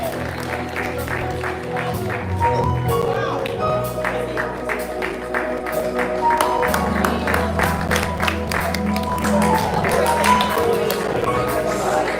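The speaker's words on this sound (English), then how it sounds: "Let's give a round of applause" An audience applauds a graduate at a youth convention recognition ceremony, with sustained, dense clapping for about twelve seconds and murmuring crowd noise underneath.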